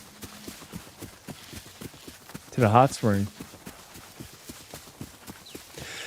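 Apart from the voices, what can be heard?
horse hooves while riding, from video game Ghost of Yotei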